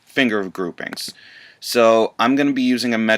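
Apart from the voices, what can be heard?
No distinct noise like a dog, phone or traffic.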